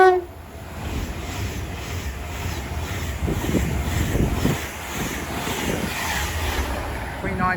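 A West Coast service from Glasgow Central to London Euston passing through Watford Junction, a rising rumble with rail clatter and buffeting wind noise, a brief horn-like tone at the start.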